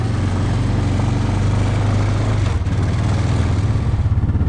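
A four-wheeler ATV engine runs steadily nearby with a loud, even, throbbing idle that keeps going throughout.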